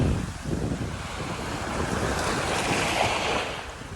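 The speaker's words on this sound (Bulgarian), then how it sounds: "Но трябва да кажа, че просто се излезе вятър, лекичък е, лека вълна." Light waves wash steadily onto an island beach on Contadora in Panama, with a gentle breeze and some wind buffeting on the microphone, a continuous soft roar with no voices.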